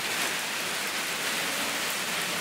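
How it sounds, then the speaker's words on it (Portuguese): Heavy downpour at a waterfall site, a dense, steady roar of rain hammering surfaces, loud and unbroken throughout with no voices. "Muita chuva, graças a Deus."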